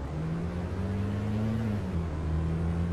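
An Iveco Daily van engine in the Roblox game Polish Car Driving, a steady loud low drone whose pitch rises slightly, then drops and settles, running continuously without pause.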